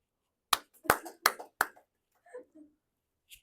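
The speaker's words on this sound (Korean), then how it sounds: "박수." A handful of sharp hand claps from a class, four quick loud slaps in a row, followed by faint murmuring voices and a soft tap near the end.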